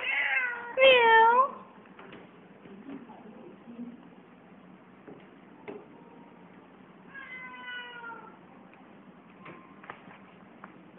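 A cat gives a loud, drawn-out meow near the start and a second, softer meow later, with quiet indoor background and light ticking sounds between.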